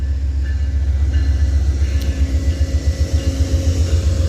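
An Amtrak train passes on the tracks with a steady, loud low rumble and rhythmic wheel clatter, close by, with no talking.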